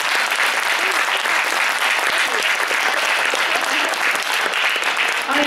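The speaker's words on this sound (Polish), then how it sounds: "Także ogromne brawa jeszcze raz." Loud, dense applause from a New Year's concert audience, a continuous crackle of many hands filling the space steadily for several seconds.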